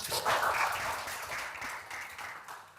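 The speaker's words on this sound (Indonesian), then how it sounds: "tepuk tangan semuanya" An audience claps in applause during a classroom session on computational thinking and Scratch coding, a steady burst of hand clapping that gradually thins out over a few seconds.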